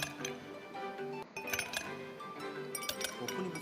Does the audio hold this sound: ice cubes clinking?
yes